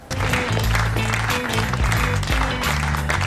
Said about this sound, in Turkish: Niye alkışlıyorsunuz?